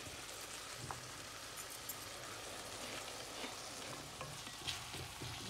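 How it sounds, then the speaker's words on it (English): Aubergine bhaaji with green chilies and coriander crackles in a hot pan as it is stirred, giving a steady close sizzle with soft scraping and shuffling of the pieces, faint and continuous with no voices. "Give it a stir"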